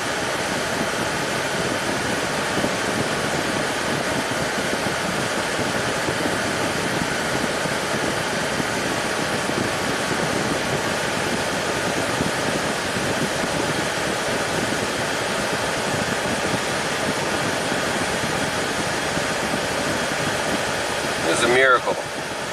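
A 1991 Audi 200 Quattro engine held at raised revs, a steady, even broadband drone with a fan-like hiss running unbroken and close throughout, with a brief knock near the end.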